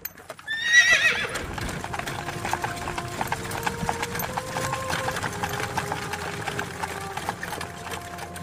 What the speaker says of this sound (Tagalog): Ay isinakay na si Isko sa isang karwahe kasama yung lalaking nag-alok sa kanya ng trabaho.